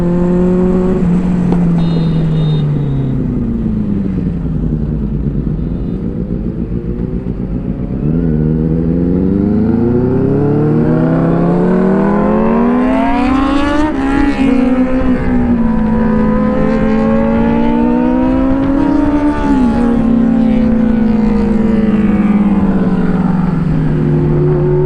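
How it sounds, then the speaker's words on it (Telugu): A Kawasaki Z900 superbike on a night ride revs hard and accelerates through gears, its loud engine note climbing and dropping repeatedly in rising sweeps over a continuous roar. "అది z900 రా పవర్ బైక్ కదా, అమేజింగ్ ఉంటుంది"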